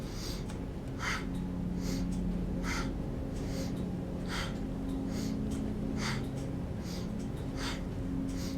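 Rhythmic, forceful breaths of a Kriya Kundalini dynamic breathing exercise, short sharp bursts repeating roughly every half second, steady and close, over a low sustained musical drone.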